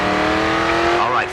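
A race car in the video game GRID 2 cornering, its engine holding a loud, steady droning note with a tire squeal sliding upward toward the end, over a short stretch.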